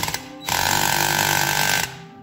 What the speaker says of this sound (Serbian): Idemo polako sa bušenjem.